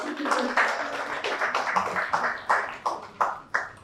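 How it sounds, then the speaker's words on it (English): Sparse audience clapping at a panel event on AI adoption in Nigeria, scattered claps growing into distinct, well-spaced sharp hits toward the end, moderately faint in a large room. "Please, a virtual clap for"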